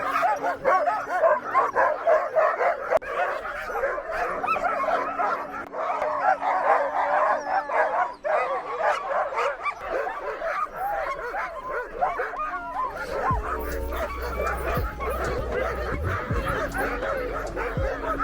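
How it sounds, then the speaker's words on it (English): A pack of Alaskan sled dogs barks, yips and whimpers loudly and continuously outdoors, an excited overlapping chorus that never lets up. "The dogs are going crazy because I had them stand still there"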